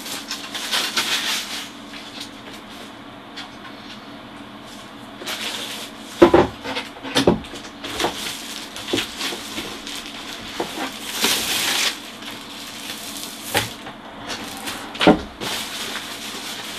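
Packaging being pulled off a BenQ XL2410T 120Hz LED monitor stand: rustling and scraping of wrap with sharp thumps and knocks as parts are handled, moderately close, no talking.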